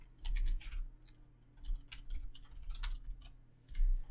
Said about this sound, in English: then you'll type in this command